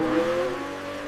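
Ferrari SF90 Stradale hybrid supercar at Fiorano Circuit accelerates, a brief, loud rising engine tone with clear harmonic whine sweeping upward in a single burst.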